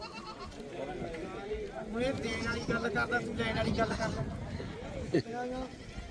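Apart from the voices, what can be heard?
goats bleating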